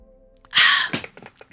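Someone takes a drink of water close to the microphone, giving a sharp breathy gasp after the sip followed by a few small wet swallowing clicks.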